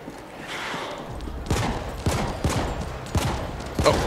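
Gunfire in The Ascent video game: several sharp, loud shots in quick irregular bursts over a low background hum, with no voices.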